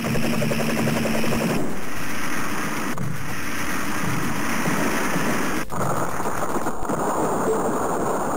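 Video game gunfire erupts as sustained rapid fire, dense and loud, continuing without a break across the whole stretch with no talking.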